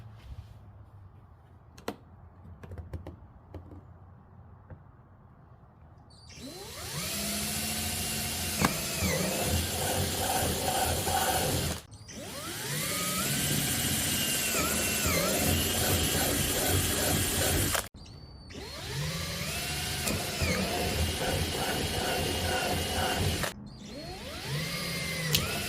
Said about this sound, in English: Now we can start drilling our holes after marking the drill points.